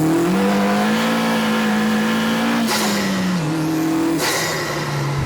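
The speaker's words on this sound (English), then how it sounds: "The one wheel spinning in second." A 330bhp Clubsport-spec VW Polo GTi with an open differential accelerates hard in second gear with one wheel spinning, the engine droning loudly and rising in pitch, with two sharp shift or rev breaks and a hint of tyre scrub.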